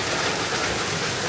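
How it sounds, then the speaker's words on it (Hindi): Heavy rain falls hard and continuously, a dense, loud, even hiss of drops with no talking. "गाइस बारिश देखो कितनी तेज हो गई भाई"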